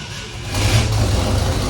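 Ford F-100 pickup engine running with low compression on cylinder two, a loud, close, rough idle whose low rumble swells about halfway through and then holds steady, with no speech over it.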